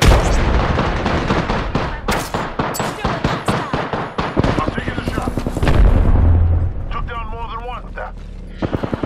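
Rapid gunfire in Apex Legends, loud and close, with bursts of repeated shots and booms, followed later by a high whining effect and scattered shots.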